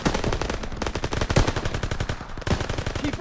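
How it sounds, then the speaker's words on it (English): Machine guns fire in the Call of Duty WW2 video game, sustained rapid bursts of loud automatic gunfire throughout, with a brief dip before the shooting resumes. "MGs, open fire."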